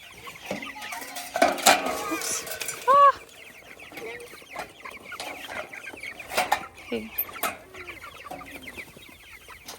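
Meat chickens cluck and squawk throughout on a family farm, with a few louder bursts nearby, while a person briefly mutters a few words.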